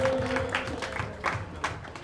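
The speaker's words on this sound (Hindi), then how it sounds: "एक बार जोरदार तालियां बजाएं इनके लिए" Audience applause at a Holi gathering and victory celebration in Ambujbari, in honour of Pradeep Gaur, a mix of scattered claps and a crowd murmur with a faint tone at the start, moderately loud and close.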